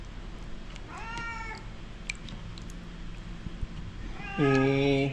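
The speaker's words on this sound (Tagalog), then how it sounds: "May isang pusa po dito na ano." A cat meows a few times indoors, fainter calls early and a louder, drawn-out meow near the end, against low household hum.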